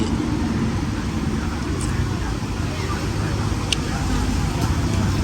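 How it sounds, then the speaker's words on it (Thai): Busy Bangkok street traffic of cars and motorcycles makes a steady, dense roar close by, with faint voices underneath. "ชีวิตชาวกรุงเทพ อยู่คู่กับเสียงรถยนต์เสียงรถมอเตอร์ไซค์กันไป"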